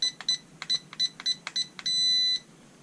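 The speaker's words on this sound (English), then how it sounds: "we're in center now when you hear that long beep" A series of short electronic beeps in quick bursts from an Eachine E009 drone controller, followed by one sustained steady beep lasting about half a second as the controls center, then silence.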